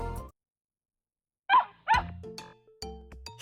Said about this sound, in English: It sounded like a dog.